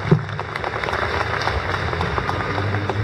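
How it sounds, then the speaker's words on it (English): Moderate crowd applause at an evening vigil outside Brampton City Hall for the New Zealand mosque attacks, honoring Peel Police, with steady clapping and a murmuring crowd throughout. "give a round of applause to our Peel Police and our Chief, Chris."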